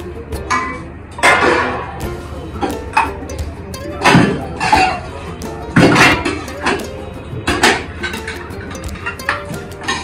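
Dishes, pots and pans are being washed by hand at home: scattered clinks, knocks and clatters of metal and crockery arrive in irregular bursts, fairly close, with water and handling noise between them and no talk.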